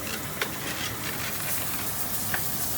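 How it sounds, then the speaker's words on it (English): Soft, steady sizzling of onions frying in a roux for gumbo, a continuous hiss with a couple of faint pops, no talking. "My mom's gonna add some onions to it. Y'all hear that sizzle?"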